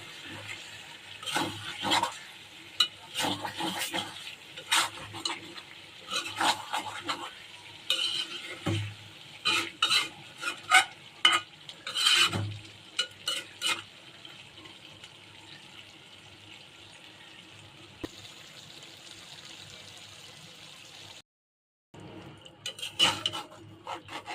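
A spoon stirs and scrapes chicken rezala with green chillies and onions in a pan, clinking repeatedly against the metal over a steady, soft sizzle, with the stirring easing off toward the end before a few more clinks.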